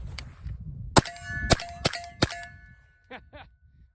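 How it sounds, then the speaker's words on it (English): Subsonic 300 Blackout rifle rounds strike steel targets: four sharp, ringing clangs in quick succession over about a second and a half, each leaving a lingering metallic hum, followed by two fainter pings. "the steel is louder than the gun."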